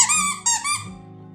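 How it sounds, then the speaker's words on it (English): A Multipet Lambchop plush dog toy squeaks loudly and close up in three quick high-pitched squeezes, each a shrill wheezing squeak, alone with no talk. "Squeeze me, I squeak."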